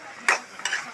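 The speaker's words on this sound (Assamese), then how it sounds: "এইটো লাও ভাজি" Bottle gourd frying in a pan is stirred twice, giving two short scraping, sizzling bursts close up over a quiet background.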